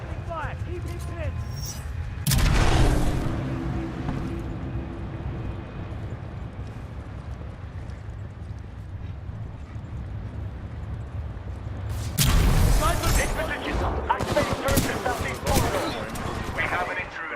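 Gunfire in Titanfall 2 erupts as a loud crack with ringing debris, then after a quieter stretch of game voices a dense burst of rapid shots and impacts rattles close by.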